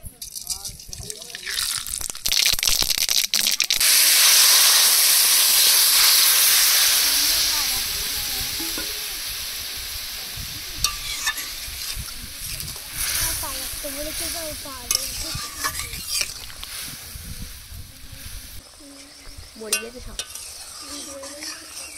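White mustard seeds crackle and sizzle in hot oil while being tempered for a sour Bengali village dish. A loud hissing burst is followed by steady frying with stirring, and a voice talks over the later part.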